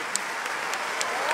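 A concert audience applauds after a Monteverdi performance by Vox Luminis and Capriccio Stravagante at an early music festival in Utrecht, a continuous wash of many hands clapping with a few louder individual claps.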